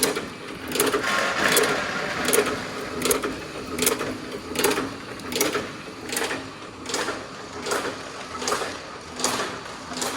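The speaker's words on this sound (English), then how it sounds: "That's their cracking machines." Pecan cracking machines at a Missouri pecan farm run with a steady, rhythmic mechanical clatter, repeating pulses roughly every second at a fairly close distance, with no talking over them.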